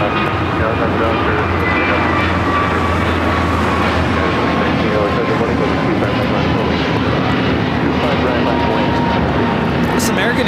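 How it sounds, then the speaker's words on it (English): An American Airlines Airbus A321neo, less than a month old, takes off from LAX with a loud, continuous jet roar and a faint whine riding on top, while a muffled voice sits underneath. "This American A321neo, less than a month old, taking off to Miami, flight 1506."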